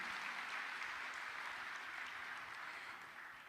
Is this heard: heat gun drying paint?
no